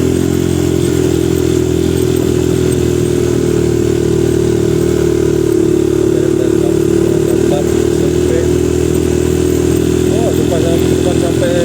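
A motorcycle rides loud and steady along the rebuilt concrete stretch of the Tumbang Bakung road, its mid-pitched engine droning continuously with wind rush, while a rider talks over it.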